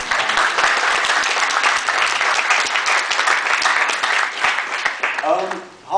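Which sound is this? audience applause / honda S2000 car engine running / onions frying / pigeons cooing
audience applause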